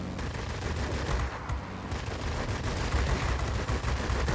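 Aircraft machine guns in World of Warplanes, on a VB 10 fighter, firing in a dense, continuous stream of rapid bursts that fill the whole stretch at steady loudness.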